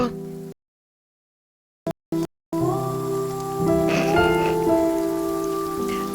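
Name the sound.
sad rain sound effect played during tabletop game session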